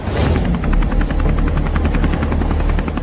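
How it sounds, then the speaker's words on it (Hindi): A loud, close helicopter with rapid rhythmic rotor chopping, steady and continuous like a cartoon sound effect, with no talking. "चल पायलट, हेलीकॉप्टर को उड़ा।"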